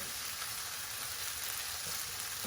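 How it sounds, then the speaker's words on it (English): Food sizzles in a hot pan with a steady, even hiss that holds at a constant level the whole time. "see that starts to sizzle away"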